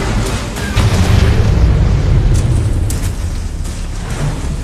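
A nuclear weapon detonating in a base-battle video game, a loud deep rumbling blast that rolls on and slowly decays with a continuous low roar.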